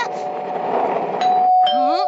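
A cartoon doorbell chimes with clear tonal rings cutting through a busy soundtrack, followed by a bright rising electronic tone; voices are heard alongside.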